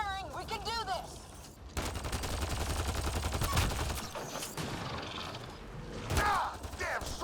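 Gunfire from a sci-fi battle in the video game Mass Effect: Andromeda, a sustained loud burst of rapid weapon fire with whining, warbling effects before and after, under game dialogue.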